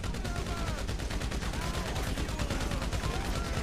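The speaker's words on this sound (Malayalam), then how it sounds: "നമ്മളെ മൈക്കിളേട്ടൻ്റെ അടുത്തുള്ളത് മറ്റേ സാധനം കേട്ടോ, മെഷീൻ ഗൺ" Sustained machine gun fire in GTA 5, a rapid, steady stream of loud, close shots that continues without pause through the whole stretch.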